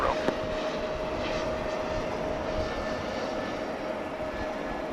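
Jet airliner engines rumble steadily at Dallas/Fort Worth Airport, a broad continuous roar with a faint steady whine, moderately distant and unbroken throughout.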